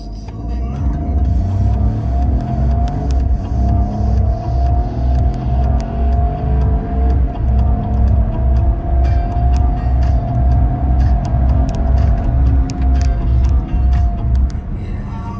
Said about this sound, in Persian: و یه 0 تا 100 بگیریم ببینیم چقدر میبره.